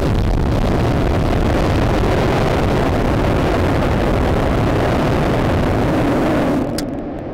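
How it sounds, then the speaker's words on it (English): SpaceX Super Heavy Booster 9 static fire with 33 engines, a massive continuous roaring rumble that fills the whole span at full loudness, then cuts and fades away near the end. "Here is the full test of Booster 9 once it was fueled and ready."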